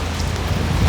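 Rain falls steadily on a Copacabana street and an umbrella overhead, a dense, even hiss of drops close by with no voices.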